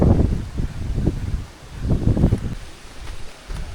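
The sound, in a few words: wind in the forest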